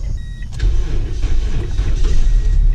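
A Toyota Echo with an old, weak battery starts up: a brief whine, then the engine catches and settles into a close, loud, steady running idle.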